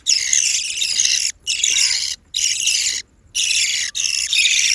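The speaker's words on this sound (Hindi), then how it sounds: "ची ची ची ची लगाई हुई है तीनों ने।" Three parrot chicks chirping while being fed, giving loud, shrill, rapid cheeping bursts in four or five repeated runs separated by brief pauses, close by, with no talk.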